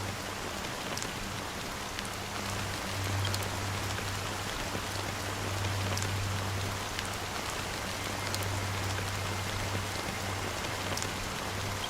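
Steady rain falls in the video game Honkai: Star Rail, a continuous even hiss of drops with a low hum beneath, lasting throughout with no voices.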